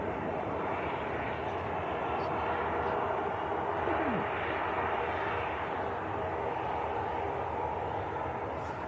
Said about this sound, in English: So Jet2 coming down our favourite taxiway.